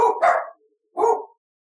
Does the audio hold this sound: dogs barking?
yes